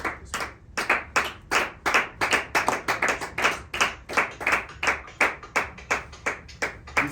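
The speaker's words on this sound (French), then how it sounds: "Acclame le Saint-Esprit" A congregation in a church service claps together in a steady rhythmic beat, about two to three claps per second, sharp and close, continuing for the whole stretch with no talk.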